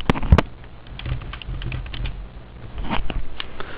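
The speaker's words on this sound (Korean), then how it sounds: "영업권이라고 타이핑합니다." Quick typing on a computer keyboard during an accounting software lesson: a loud clack at the start, then a run of close, irregular key taps with a brief flurry near the end, no talk.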